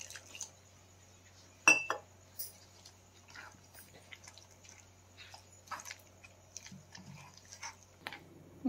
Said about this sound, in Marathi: आता थोडं पाणी टाकते याच्यामध्ये.